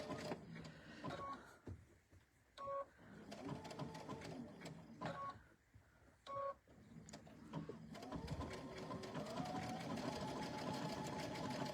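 A sewing machine stitches in short bursts with pauses, then runs continuously, a rapid mechanical whirring and clacking at moderate level.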